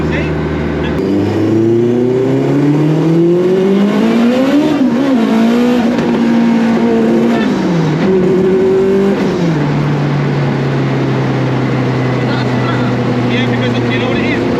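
An AWD Honda Civic EG engine roars close and loud on a street in Mexico as the throttle is blipped on and off, its pitch rising and falling in surges, with people talking over it.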